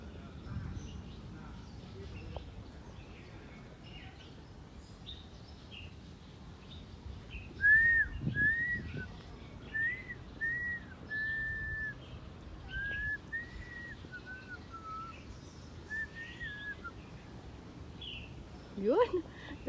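Small birds at Mount Fortress in Macao whistle and chirp in a run of short upward notes, moderately near, over low outdoor rumble and brief handling noise, with no talk.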